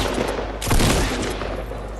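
Fortnite gunfire with shotgun blasts, a dense crackling volley with a sharp louder report partway through, heavy and close, no talking.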